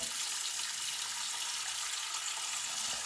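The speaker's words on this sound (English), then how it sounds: "I'm going to fill the sink up whilst I'm waiting for the hot water." A tap runs steadily into a sink during a plumbing and heating survey, a constant hissing rush of water with no talk over it.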